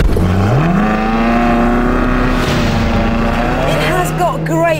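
A Ferrari California in its sportiest setting revs hard with a loud, close engine note that climbs, holds steady, then shifts and climbs again as the car accelerates.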